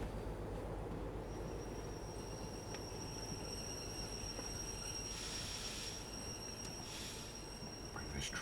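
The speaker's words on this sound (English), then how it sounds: "Start getting some braking on." A train in the Derail Valley video game braking to a stop, with a steady rumble of rolling cars under high, sustained wheel squeal that swells in bursts toward the end.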